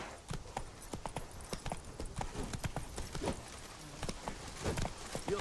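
Hooves of Roach, the horse in The Witcher 3, clip-clop in a fast galloping rhythm across the whole stretch, steady and fairly close, with no talking.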